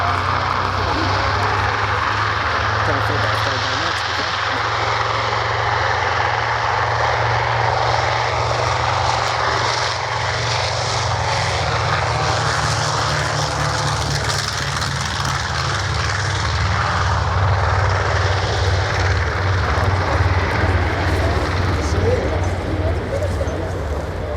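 A C-47 propeller aircraft flies past at the Shoreham Airshow, its piston engines droning loudly and steadily with a pulsing low throb, while a commentator talks over the noise.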